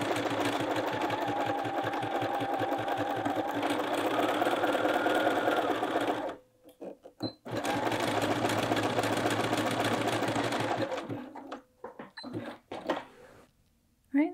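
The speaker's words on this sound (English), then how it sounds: "keeping the seam line even with the center of my machine foot. I'm just going to stitch back and forth." A sewing machine stitches back and forth along the seam of a quilted jacket, a loud rapid mechanical whirr running steadily, stopping briefly, then resuming in shorter bursts with pauses near the end.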